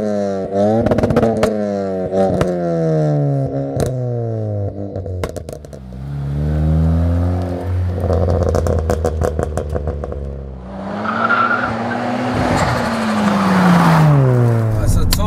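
A methanol-injected 475 bhp Ford Focus ST driving hard, its engine loud and close as it revs and climbs through the gears with repeated rising sweeps, sharp clatter and bursts between shifts, and a fierce surge toward the end.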